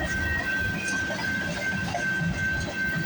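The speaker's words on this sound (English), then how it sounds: "I hear an engine roar." A CPKC freight locomotive roars steadily at a distance, a continuous deep rumble with a thin high whine running through it, loud and unbroken throughout.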